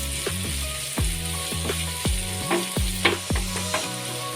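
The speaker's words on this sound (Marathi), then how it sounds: "कांदा चांगला परतून घ्यायचा आपल्याला." Chopped onion sizzles in a hot oiled pan for a dhaba-style whole masoor curry, with a steady frying hiss broken by regular, rhythmic scrapes and stirs of a spatula, close and moderately quiet.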